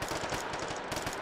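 Rapid automatic gunfire rattles in Hot Dogs, Horseshoes & Hand Grenades, a fast, evenly spaced burst of close, loud shots running without pause.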